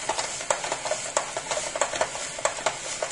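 A hand-cranked spiralizer cuts raw zucchini into noodles, producing a rapid series of close, crisp rasping crunches in an even rhythm as the handle turns.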